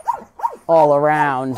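Dogs kept in cold cages on a dog meat farm, heard close as short yips followed by a long, loud whining howl, with a voice speaking briefly at the start.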